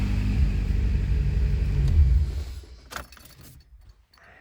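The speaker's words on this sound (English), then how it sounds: "So let me turn the car off." A K24-swapped car with its engine idling as a low, steady rumble that cuts out around the middle, leaving a few faint clicks and rattles as the key is turned off.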